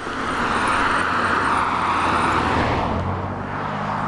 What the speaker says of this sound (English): Let that car go by.